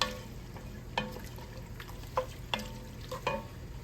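Diced tomatoes go into a pan of sizzling beef goulash, with several distinct scraping stirs and wet clatters of a spoon against the pot over a continuous close frying hiss.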